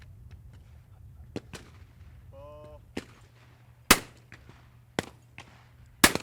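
Shotguns fire at a clay shooting competition, the national championships super squad, as a few sharp, distant-sounding reports spaced irregularly over a quiet outdoor background, with a faint short whistle-like tone in between.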